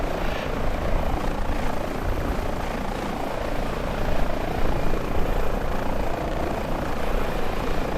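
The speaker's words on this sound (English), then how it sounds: "Coastguard helicopter I've ever seen." Rotor and engine roar of a coastguard helicopter in a flight video game, a steady, loud, dense drone with a slight swell midway, no talking over it.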